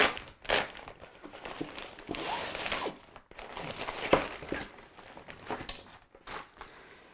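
Small handy plastic bags holding lampshades from a studio lighting kit are handled and crinkled, giving irregular crackling and rustling bursts at close range, fairly quiet throughout.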